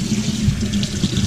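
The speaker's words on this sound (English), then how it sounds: "rinse it out real good" Tap water runs in a steady, even stream while smoked meat is rinsed in a sink, a close, continuous splashing rush with no pauses.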